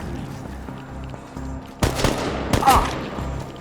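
Gunfire from the video game Chernobylite rattles out in a sustained burst of rapid shots over a low ambient bed, loud and close, with sharper cracks toward the end.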